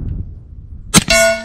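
Suppressed ZEV OZ9c pistol shot with the bullet smacking into mud downrange: a sharp near crack, a short gap, then a ringing metallic clang with a sustained tonal tail that fades out.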